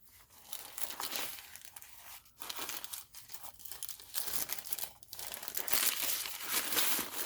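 Tissue paper crumpled by hand for a handmade craft card, close crinkling and rustling in irregular bursts with brief pauses, no voice over it.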